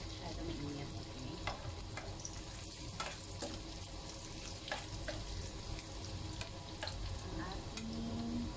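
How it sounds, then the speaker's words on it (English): Garlic frying in hot oil for batchoy, a steady close sizzle with occasional stirring scrapes and clicks throughout. "So, mainit na yung mantika natin, guys. Lalagyan na natin ang ating garlic."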